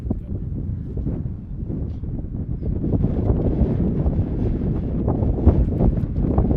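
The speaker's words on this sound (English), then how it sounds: "Wind continuing to blow." Steady wind gusting across an outdoor college baseball field during a Kansas vs Oklahoma game, a continuous low roaring rush buffeting the microphone and swelling slightly louder partway through, with no talk.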